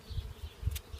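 Honey bees buzzing on a crowded hive frame during a honey harvest. A faint, low, pulsing hum swells and fades in a steady rhythm.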